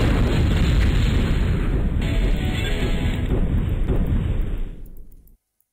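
A heavy explosion rumbles through an airstrike attack in the MechQuest video game, a loud sustained boom lasting about five seconds before cutting off abruptly.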